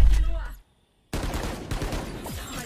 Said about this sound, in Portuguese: O Sova deu um tiro muito rápido